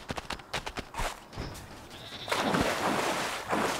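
A goat bleats in the Goat Simulator 3 video game, coming through among sharp knocks and thumps, followed by a loud, noisy rush of game sound effects.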